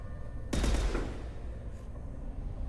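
A loud gunshot or short burst of gunfire from the video game Mass Effect 2 erupts suddenly, then fades into a low ambient hum.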